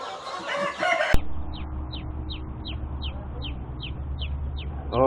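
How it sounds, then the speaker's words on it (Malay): Laying-hen chicks chirp in a regular series of high, sharp peeps, close and repeating about twice a second, following a burst of louder noise and voices at the start. "anak ayam penelur sudah sampai di tangan saya"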